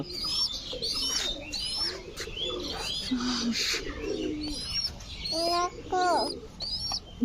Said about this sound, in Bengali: ওর মাকে ডাকছে দেখেছ